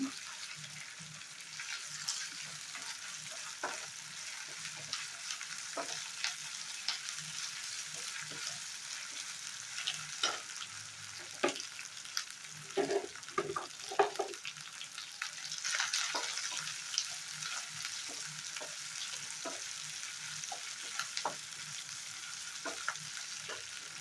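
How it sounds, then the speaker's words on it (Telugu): Ginger garlic paste fries lightly with onions in a pan, giving a steady, soft sizzle. Spatula stirs and scrapes tap through it at intervals. "ఈ అల్లం వెల్లుల్లి పేస్ట్ కూడా కొంచెం పచ్చివాసన పోయేంత వరకు లైట్గా ఫ్రై చేసేసుకోవాలి"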